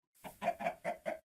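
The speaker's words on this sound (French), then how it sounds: "Donc on va essayer de tuer un petit poulet." Four quick, close clucks from a chicken in a modded video game, evenly spaced bursts rising out of silence, clear and moderately quiet with no speech.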